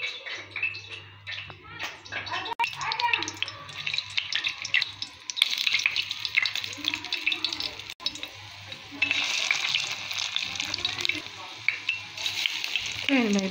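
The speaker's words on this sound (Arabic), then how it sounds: "دابا خوتي الزيت سخن، غنبدا نقلي الباكيت" Pieces of bread fry in hot oil, a dense crackling sizzle running steadily throughout with occasional stirring clatter and a low hum beneath.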